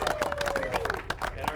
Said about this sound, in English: Let's give Dave in the 8th seat a round of applause